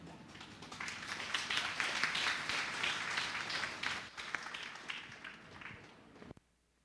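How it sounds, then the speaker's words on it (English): An audience at a Divali celebration gives a dancer a sustained round of applause, many hands clapping densely for several seconds before it fades and cuts off abruptly; faint and somewhat distant. "Please, with a lusty, tremendous round of applause for our dancer this afternoon."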